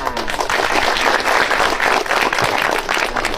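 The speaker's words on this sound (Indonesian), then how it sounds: "Ya, tepuk tangan." A crowd at an outdoor community gathering applauds loudly and continuously, with dense overlapping claps throughout.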